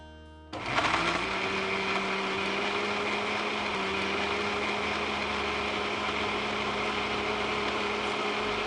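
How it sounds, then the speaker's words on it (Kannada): An electric mixer grinder in a home kitchen starts abruptly and then runs with a steady, loud motor whine and grinding roar that holds evenly to the end, with no one speaking. "ಮಿಕ್ಸಿ ಮಾಡ್ಕೊಂಡು ಬರಲಾ?"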